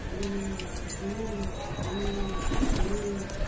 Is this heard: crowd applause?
no